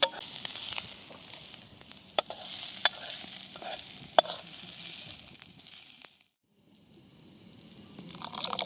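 Dried shrimp (sukat) frying in a kadhai, a steady close hiss of sizzling with sharp clicks and scraping stirs, a brief silence near the end before the frying noise resumes.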